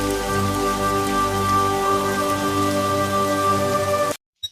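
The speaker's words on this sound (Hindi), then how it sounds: "बारिश की बूंदें उनके चेहरों पर गिर रही थी" Steady rain falls in a continuous dense patter under a sustained tonal musical drone, then the sound cuts off abruptly near the end, leaving a brief silence.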